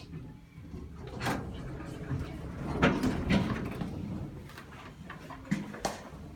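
Door of a Kone hydraulic elevator, modernised around 2019, sliding shut at Taro Hall, Brock University, in St. Catharines: a soft rolling slide with a few mechanical clunks and a final thud, moderately close.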